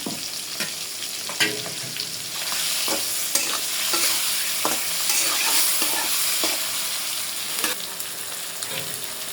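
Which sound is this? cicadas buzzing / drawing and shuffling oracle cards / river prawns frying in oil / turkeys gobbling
river prawns frying in oil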